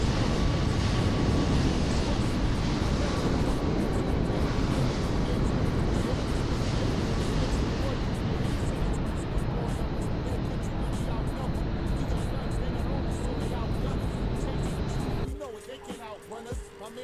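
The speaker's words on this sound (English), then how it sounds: "We've got an MD-82." MD-82 airliner engines in the Microsoft Flight Simulator game roar as a steady, loud broadband rumble with a faint high whine, holding for about fifteen seconds before cutting off abruptly into near quiet.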